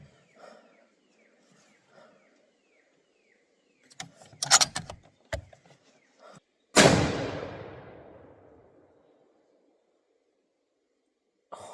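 A single loud, close rifle shot from a Tikka in 6.5 Creedmoor cracks sharply and rings down over a couple of seconds, following scattered handling clicks and rustles, with quiet moments before and after.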